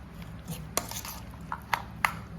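Spoon clinking and scraping against a bowl while fruit salad is stirred and mixed, a few sharp metallic taps standing out over a quiet background, with no talking.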